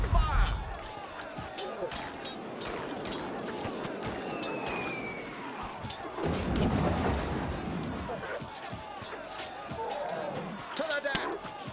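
Cannon fire from a pirate ship in a sea battle video game, a series of heavy booms and impacts scattered across the stretch amid game noise, with people talking over it.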